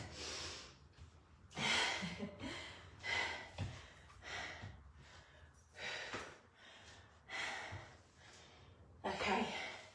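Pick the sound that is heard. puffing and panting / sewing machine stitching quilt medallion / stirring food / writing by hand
puffing and panting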